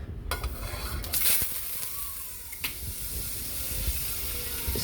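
Butter sizzling and frying in a hot pan at the start of cooking chicken afritada, a steady close hiss with a few stirring clinks over it.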